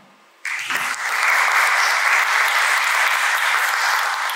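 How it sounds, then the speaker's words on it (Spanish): Sustained applause from a conference audience at a Spanish-language speaker series session, breaking out suddenly after a moment of quiet and holding steady as a dense, loud wash of clapping. "Un aplauso, por favor."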